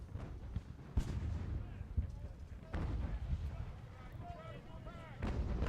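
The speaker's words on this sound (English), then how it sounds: "So we're apparently using our artillery to hit the troops in the second line here in the fort behind the regiment in front" Artillery fires in the strategy game Ultimate General: American Revolution during a fleet battle at a fort, with several deep booming shots spaced a second or two apart over a rumbling battle backdrop.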